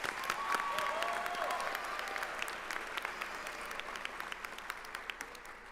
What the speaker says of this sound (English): Let's give Omari another round of applause